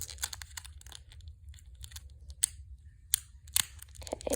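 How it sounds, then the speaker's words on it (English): A mini brands toy package is ripped open, with close, quiet crinkling, tearing and sharp plastic snaps in an irregular rhythm. "Let's rip it open."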